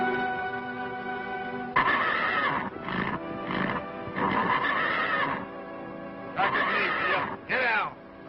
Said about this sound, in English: Much obliged for the horse, Sunset.